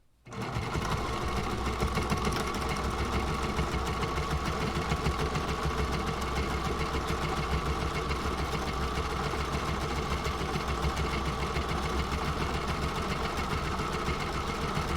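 A sewing machine runs steadily, stitching a bag with the needle set to the left, a continuous close, loud mechanical whir that starts within the first second and holds unbroken to the end.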